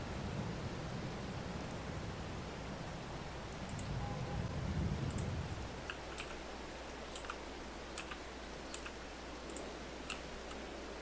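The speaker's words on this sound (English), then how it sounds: "for a moment there I thought the rain had let up" Steady rain falling in Farming Simulator 22 during September crop planting, a soft continuous hiss under a low engine drone, with faint sparse ticks and clicks scattered over it.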